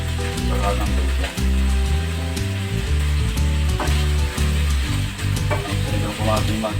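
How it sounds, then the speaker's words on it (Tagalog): Onion, garlic and ginger sauté in hot oil in a pan, giving a steady, close sizzle with a few stirring scrapes over a loud, continuous tonal background that sounds like music. "Pero gumigisa na tayo ng luya."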